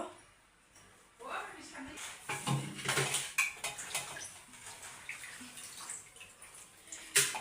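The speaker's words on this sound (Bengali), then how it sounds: "এদিকে মাংসটা প্রেসার কুকারে একটু সিজ দিয়ে নেব।" Pieces of beef being dropped into a pressure cooker, with metal pot and utensil clatters and a little water splashing, close by, while a person talks over the handling noises.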